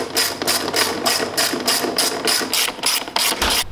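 A socket ratchet tightens bolts on an FMF slip-on exhaust fitted to a KX250F dirt bike, giving a loud, rapid run of evenly spaced clicking strokes close up.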